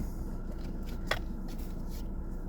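Quiet, close handling of a Hermetic tarot card deck: soft shuffling and flicking of cards with one sharper snap midway, alone in a hushed room.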